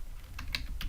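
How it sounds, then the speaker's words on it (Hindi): Keys clatter on a computer keyboard as data is typed into a form, three or four quick distinct taps close to the microphone over a low background hum, with no talking. "अब मैं कुछ डेटा एंटर करता हूँ"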